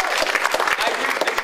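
Conference audience at an antiwar drone conference applauding Iraq Veterans Against the War, a brief burst of dense, steady crowd clapping, loud and close.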